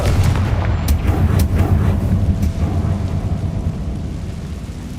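Rumbling explosive blasts from the Confringo fire spell in the Hogwarts Legacy video game, a dense low boom that swells early with a few sharp cracks, then slowly tails off, loud and continuous with no talk.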